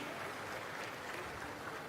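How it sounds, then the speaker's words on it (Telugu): Sustained applause from an audience at a public meeting, a dense even wash of clapping, fairly distant and soft, with no voices standing out. "గట్టిగా చప్పట్లు కొట్టి అభినందించండి."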